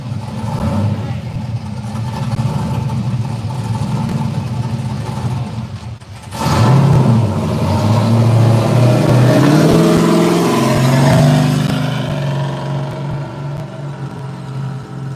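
Drag racing car engines at a no-prep dragway start up and rev loudly, a steady heavy engine drone that surges after a few seconds and holds, with people talking over it.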